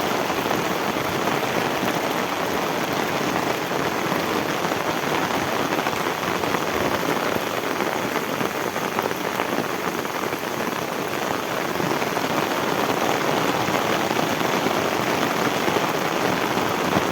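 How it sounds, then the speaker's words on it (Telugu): Heavy rain pours down in a continuous, even hiss, drumming on surfaces close by without letting up, and no one speaks. "చూడండి వర్షం ఎంత ఎలా కుడుతుంది"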